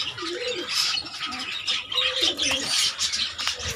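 A Madras pigeon coos in low, rolling phrases at close range over a constant backdrop of other birds chirping, its calls returning again and again with no speech.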